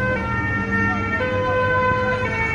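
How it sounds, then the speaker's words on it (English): Ambulance siren wailing on a street in Nice, France, just after fireworks and a truck attack, holding steady tones at moderate distance over traffic rumble, with faint voices nearby. "There's another ambulance there, heading down the end of the road."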